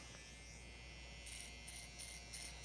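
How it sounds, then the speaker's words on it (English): Single-foil electric shaver running close against skin, a steady near buzz throughout with brief bursts of brighter hiss as it passes over the skin. "you'll probably find that they are able to tolerate the electric shaver"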